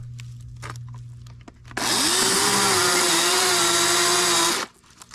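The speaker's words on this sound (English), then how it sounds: "Put it on the cedar tree, make it easier, because it is a electric saw." Freshly sharpened electric chainsaw cutting a cedar tree, a loud steady high whine that holds for about three seconds, then cuts off, with a faint bump at the start.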